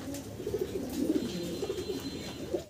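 Pigeons coo repeatedly at a farm, a steady overlapping chorus of soft, low throaty calls rising and falling, moderately near with no talk.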